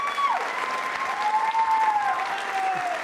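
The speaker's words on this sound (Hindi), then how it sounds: "तालियां जोरों से बजाइए," An audience at a Jain Social Group quiz show gives continuous applause, a dense even wash of clapping lasting the whole stretch, with a faint tonal sound over it.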